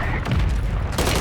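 An explosion in the video game Warzone blasts loud and close, a dense rumbling burst that swells into a second sharp crack near the end.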